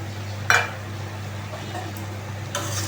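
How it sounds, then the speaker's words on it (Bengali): Fried salted hilsa fish goes into pumpkin greens in a pan, with a soft sizzle under a steady low hum, a brief clink of utensil on pan and light stirring scrapes. "মাছগুলো আগে থেকে ভেজে রেখেছিলাম এখন এগুলো দিয়ে দিব"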